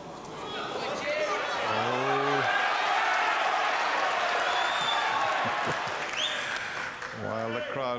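A large crowd at the Masters snooker quarter final in 2005 breaks into sustained applause and clapping that swells and holds for several seconds, while commentators talk over it.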